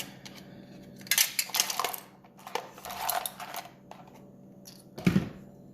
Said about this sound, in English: I think I was thinking about cutting it a little bit shorter. So I'm gonna trim it. I'm gonna get my trimmer.